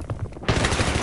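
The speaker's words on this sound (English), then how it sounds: "Wish his light machine guns reloaded just a hair faster." Light machine gun fire in the video game Battlefield 3, a short, loud burst of rapid automatic shots starting abruptly after a brief softer moment.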